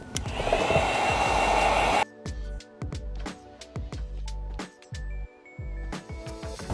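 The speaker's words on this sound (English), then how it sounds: "apply tack solution and use your heat gun and start bringing them down" A heat gun blows loudly for about two seconds while heating tint film on a 2017-2022 Kia Sportage taillight, then cuts off, leaving quieter handling noises and short bursts of background sound.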